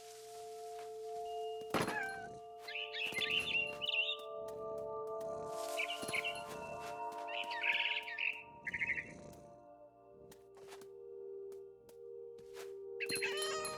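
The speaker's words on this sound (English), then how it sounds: "Then I heard chirping outside my window. It was a barn swallow going back to her nest." Barn swallow chirps from the game What Remains of Edith Finch come in short bright bursts, several separate calls spread over a quiet backdrop with steady game tones and occasional sharp clicks.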